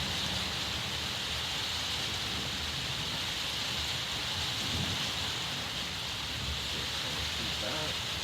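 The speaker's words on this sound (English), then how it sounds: "Heavy rain for the next hour." Heavy rain from an approaching July thunderstorm pours in a steady, dense hiss throughout, with a faint low rumble hinting at distant thunder and some background voice activity.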